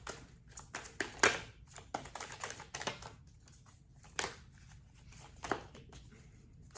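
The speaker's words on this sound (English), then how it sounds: "It's not the easiest deck to shuffle." A tarot card deck is shuffled by hand, producing irregular bursts of soft, close card riffles and taps with quiet pauses between them, no talking.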